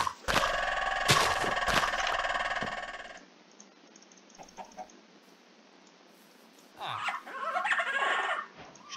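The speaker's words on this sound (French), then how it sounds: "les perroquets ils font un peu beaucoup de bruit" Parrots squawking and calling in loud, harsh, layered bursts within a survival video game, a dense chorus at the start, then quieter scattered calls and a brief return of raucous cries near the end.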